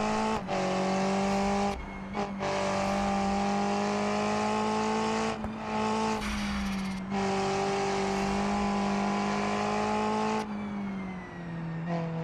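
A race car's 5-cylinder or V6 engine drones loudly and steadily in a racing video game, holding a sustained tone with brief dips and surges as it shifts gears and lifts off, alone with no talk.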